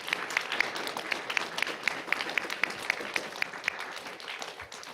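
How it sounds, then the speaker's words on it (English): Applause from an audience at a St. Therese school event, with steady, evenly spaced claps standing out over a soft, continuous patter of hands at moderate distance. "if we could give also a round of applause to Mr. Canavati for taking this on."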